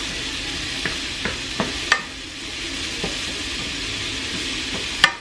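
Onion sizzles steadily as it is added to potatoes frying in a pan, with a constant hiss and several sharp clinks and scrapes of stirring spaced through, close and alone with no talk.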